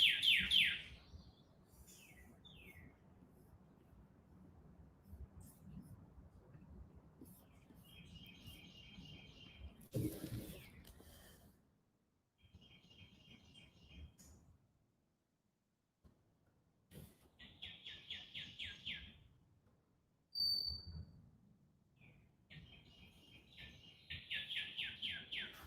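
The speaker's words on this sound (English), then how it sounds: "Listen, birds, I'm trying to do a YouTube video here. Can you guys be a little less noisier?" Birds chirp outdoors in short, bright bursts of tweets, scattered irregularly across a quiet background with occasional soft low rumbling.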